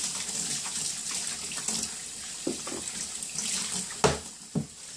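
A paint brush is worked in water in a big sink, giving a soft, close running-water wash with a few louder splashy swishes near the end, no voices.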